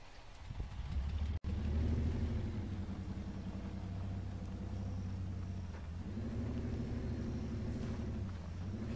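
Off-road cargo truck engine in Spintires, a low heavy rumble running steadily throughout, loud and close, with slow swells as the revs rise and fall.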